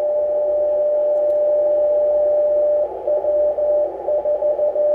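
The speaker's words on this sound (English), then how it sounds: "So the beacon should be on CW. You'll hear that in a second." A steady CW beacon tone comes through an Icom IC-9700 radio, holding one continuous pitch and then breaking into keyed on-off pulses over faint background hiss.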